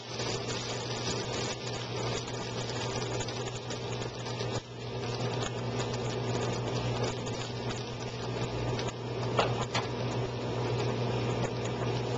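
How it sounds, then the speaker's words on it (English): A microwave oven heating flour tortillas hums steadily at low volume, a continuous droning whir with faint rattles, no talking over it. "Warm a couple tortillas, flour tortillas in the microwave."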